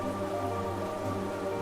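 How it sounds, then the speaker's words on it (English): Steady downpour pattering beside a fountain in the game Hollow Knight, a continuous dense hiss of rain on surfaces at even loudness, heard alone without talk. "What are you doing out in this miserable downpour?"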